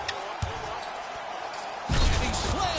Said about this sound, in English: And he slams it down through contact